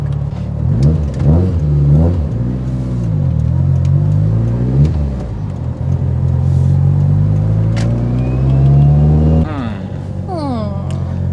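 A Mitsubishi Evo 8 engine revs up repeatedly, climbing in pitch to a high sustained whine at its 4,500 RPM limiter before dropping back, loud and close.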